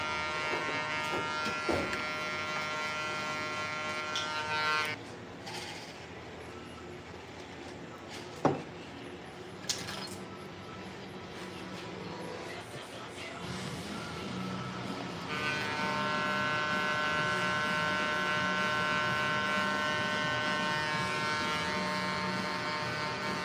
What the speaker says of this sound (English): Last clipper to make an appearance here is going to be the Instinct, because it has a taper blade on it.